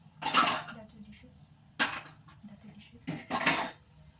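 Dirty dishes clatter loudly while being washed, three separate bursts of clanking pots and cutlery spread across the stretch with quiet gaps between them.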